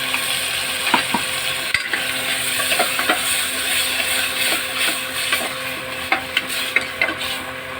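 Onion-coconut paste with salt sautéing in a pan, a steady close sizzle with scattered clicks and scrapes of stirring across the clip, no voices.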